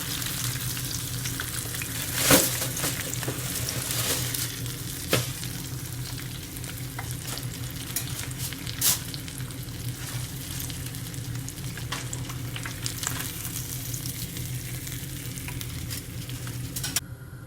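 Jerk-seasoned fish frying in hot oil gives a steady, close, crackling sizzle throughout, with a few sharp pops and utensil clicks breaking through.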